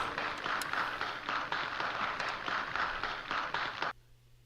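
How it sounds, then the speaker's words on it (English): A canned applause sound drop on a morning folk music mix plays as a steady burst of crowd clapping and cheering, then cuts off abruptly, leaving a faint low hum. "I got my own applause now."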